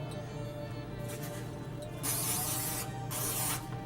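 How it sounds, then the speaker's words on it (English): Short hissing bursts of cooking spray sprayed into a baking pan, two louder blasts in the second half over a steady low background hum. "you're going to squirt it with cooking spray"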